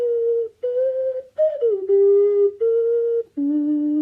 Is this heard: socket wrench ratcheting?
no